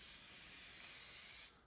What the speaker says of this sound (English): start spraying here and then go across the part you're spraying